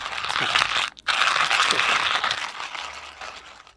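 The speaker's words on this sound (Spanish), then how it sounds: "aquí lo que voy a hacer es básicamente moler el café" Coffee beans being ground give a continuous, close, gritty crunching rasp that stops briefly near the start and then resumes steadily, fading slightly toward the end, with no talking.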